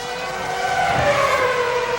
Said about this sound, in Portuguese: Olha o Rubinho acelerando lá, faz a melhor volta dele